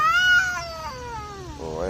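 Two black cats growl and yowl at each other in a fight, a single drawn-out, wavering caterwaul with rising and falling pitch, close and loud, no talking.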